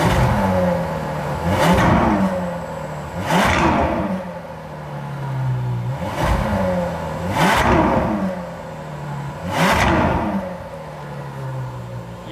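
A cold Lamborghini 6.3-litre V12 revs repeatedly with the choke off, five rising throttle blips swelling and falling back to a rough idle, loud and close with no talking.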